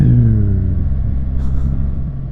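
BMW R1300GS motorcycle engine revving up close, a loud steady low rumble with rising harmonics that settles into a sustained drone, on an Alpine road in France.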